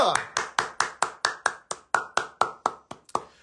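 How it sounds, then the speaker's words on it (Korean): About fourteen single sharp hand claps from one person, evenly spaced and close, ringing briefly in a reverberant room, with no other sound between them. "박수!"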